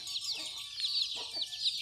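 Domestic chickens cluck around a rural house, a few short, fairly faint clucks and calls repeating over steady outdoor background.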